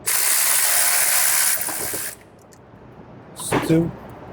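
A ratchet wrench removes a bolt on a 2017 Jeep Wrangler, a loud rapid clicking rattle for about two seconds, followed by quieter handling noises and a brief voice.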